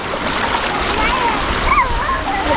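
A child runs into clear sea water at a Goa beach, splashing and churning the shallows close by in a continuous rush, while voices call out over it.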